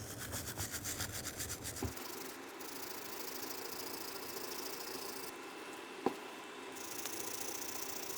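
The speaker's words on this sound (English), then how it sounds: "we're going to wire brush across the top and the bottom" Wire brush scrubbing a front lower ball joint part on a 2003-2011 Honda Element, quick rhythmic rasping strokes at first, then a fainter steady scratchy hiss with a single sharp tap near the end, close and without speech.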